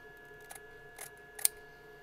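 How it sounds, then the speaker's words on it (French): Fabric scissors trim surplus cloth from a small round double-zip patchwork pouch, giving a few sparse, quiet snips spaced about half a second apart over a faint background hum. "je vais couper le surplus."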